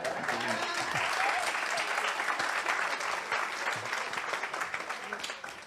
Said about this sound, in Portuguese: esse aplauso foi para o moderador que trabalhou em pé por 2 horas